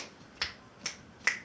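Three sharp, evenly spaced claps from a Dr. Rhythm drum machine sample, short crisp hits that stand alone with nothing else heard.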